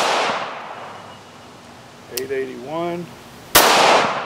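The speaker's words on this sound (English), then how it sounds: "Here we go, three rounds of the Winchester." Winchester PDX1 Defender rounds fired through a chronograph, with loud, sharp gunshot reports separated by a couple of seconds and a voice briefly calling out a number between them.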